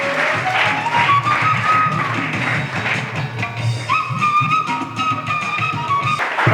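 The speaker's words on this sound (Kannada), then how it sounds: "ಜೋರಾದ ಚಪ್ಪಾಳೆಯೊಂದಿಗೆ ಅಭಿನಂದಿಸೋಣ." Hall audience gives an honoured CRPF soldier a round of applause, with claps mixed with whistles and crowd noise throughout.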